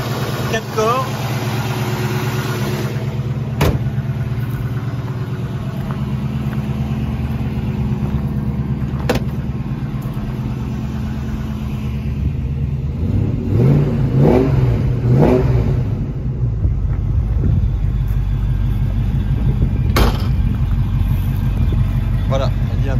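A 1965 Ford Mustang Fastback with a four-barrel carburetor idles with a deep, steady rumble, then revs up in a couple of rising surges before settling back, close by, with someone talking over parts of it.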